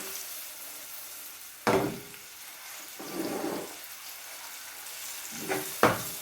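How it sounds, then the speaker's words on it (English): Chopped white onion sautés over high heat in a pot for a chickpea curry. A soft, faint sizzle carries throughout, broken by a few brief stirring scrapes. "So you just want to saute that."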